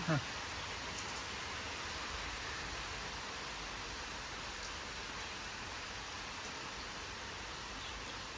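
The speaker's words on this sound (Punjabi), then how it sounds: "ਮੀਂਹ ਸ਼ੁਰੂ ਹੋ ਗਿਆ" Steady rain falls continuously on a farm with wheat fields, a dense, even hiss that stays constant throughout at moderate level.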